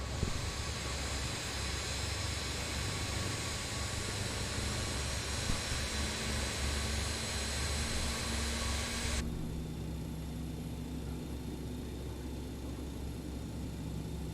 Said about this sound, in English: And then engine number 2 is starting as well.